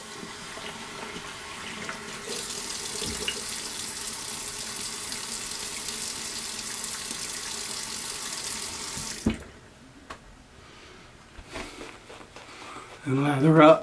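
Water from a tap runs steadily and fairly softly for several seconds while someone wets their face before shaving, then cuts off, leaving quiet splashing and handling sounds and a louder rustle at the end.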